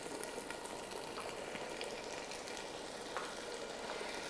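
Beef and spices frying in a pot for beef chana pulao hiss with a dense, continuous sizzle at moderate loudness, with faint bubbling and small stirring ticks and no voices.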